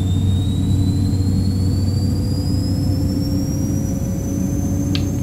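A Beechcraft 1900D turboprop engine starting in X-Plane 10, a loud steady whine and low hum with a slowly rising high tone as the engine spools up, continuous with no talk.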